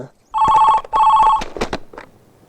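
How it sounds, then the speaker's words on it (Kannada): A telephone bell rings in two loud, even bursts, followed by a brief clatter as if the receiver is picked up. "ಇನ್ನು ಫೋನ್ ಎತ್ತಿಲ್ಲ ಅಮ್ಮ ರಾಹುಲ್."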